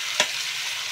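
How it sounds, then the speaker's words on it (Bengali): Prawns with tomatoes and ground spices frying in a pan sizzle with a steady hiss, broken by a single sharp stir or scrape near the start. "এটাকে আমি এখন ভালো করে কষিয়ে নেবো, একদম মশলার সাথে ভালো করে ভাজা ভাজা করে নেবো"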